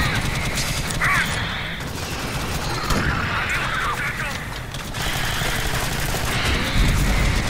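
Gunfire in Alien Swarm as players shoot at a shielded alien, a steady loud clatter of automatic weapons and metallic impacts filling the whole stretch, with some voices mixed in.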